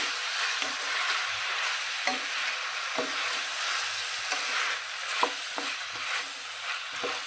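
Pieces of brinjal are stirred and fried in a pan for a brinjal and chana dal curry: a steady close sizzle with repeated scraping taps of a spoon against the pan.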